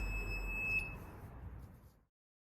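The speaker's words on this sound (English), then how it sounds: "whenever it detects smoke, the buzzer is triggered." A smoke detector buzzer gives a thin, steady high-pitched tone for about a second over a low rumble, then everything fades to silence.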